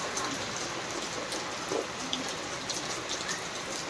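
Steady rain pours down outdoors in a village during Navratri season, a dense, even hiss of drops on surfaces with no pauses and no voices.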